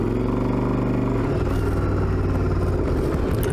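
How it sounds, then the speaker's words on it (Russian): A 2005 Yamaha Drag Star XVS 1100A Classic large-displacement motorcycle engine runs with a steady low throbbing rumble and loose mechanical clanking and thumping, fairly close and moderately loud. "Звук и не громкий, но ощущение, что двигатель довольно большой, есть, там что-то лязгает, бумкает,"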